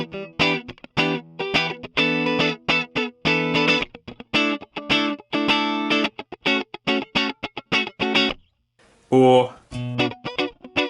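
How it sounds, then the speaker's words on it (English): Electric guitar through a clean Helix preset with chorus, playing funky, choppy muted chords in a tight, rhythmic pattern, briefly interrupted by a spoken word near the end. "that chorus does add something as well."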